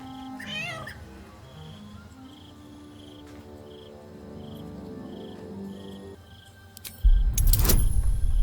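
A cat in the video game Baldur's Gate 3 lets out a short meow near the start over a quiet, humming ambience, followed later by a sudden loud burst of noise.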